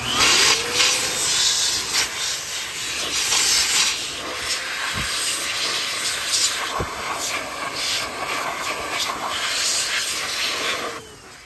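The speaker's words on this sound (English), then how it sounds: "Blow everything dry." Compressed air blasts steadily through a car interior, driving leftover cleaner and dirt out of tight spaces during detailing, a loud continuous hiss with a few sharp bursts, heard alone.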